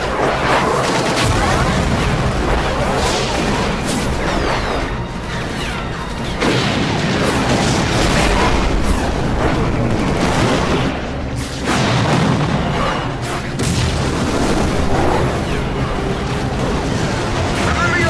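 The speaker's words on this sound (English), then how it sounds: "Give word to the cannons. Make ready and fire." Heavy booming blasts and crashes roll on continuously, loud and dense, like repeated cannon fire in a battle with rumbling impacts throughout, in Final Fantasy XII: The Zodiac Age.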